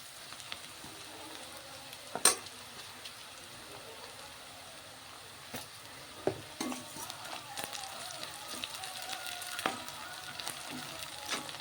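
Onion pieces frying in a pan with slit green chillies, a soft steady sizzle broken by occasional louder scrapes and clinks of stirring, faint and close.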